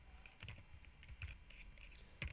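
Keystrokes on a computer keyboard as a database command is entered in a terminal, scattered taps in a steady run with a few sharper, louder presses, fairly close and quiet, with no talking.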